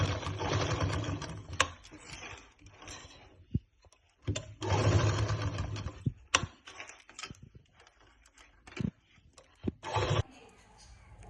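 A sewing machine stitches a flared lehenga in a boutique in short bursts of whirring, separated by pauses and small clicks as the fabric is handled.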